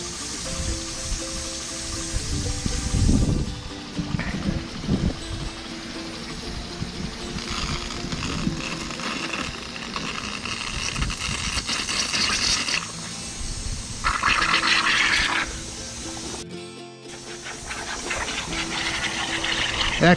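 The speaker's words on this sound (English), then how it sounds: "keep this zone on until the farthest one down here starts sputtering air" Sprinkler system zone being blown out with an air compressor during winterizing, a steady hissing, sputtering rush of air and spray that surges and fades over a continuous mechanical drone.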